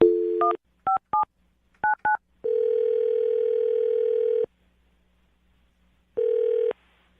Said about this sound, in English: I'm going to dial his phone number now